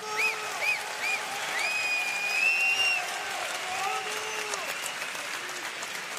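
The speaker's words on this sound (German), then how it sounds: "hätte ich ganz gerne einen Applaus für beide Kämpfer." An MMA event crowd in Hamburg gives sustained applause for both fighters, with steady clapping and a few whistles and cheers mixed in, spread across a large room.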